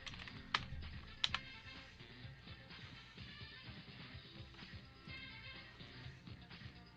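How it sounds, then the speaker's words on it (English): Typewriter keys clatter in a rapid, uneven stream with a couple of sharper loud strikes near the start, busy and close throughout. "typewriter"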